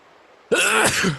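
A single sudden, explosive burst from a person, sharp onset then a short noisy trailing breath, close and loud after near quiet.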